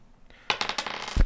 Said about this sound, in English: my support action, I'm going to take a blue die and roll it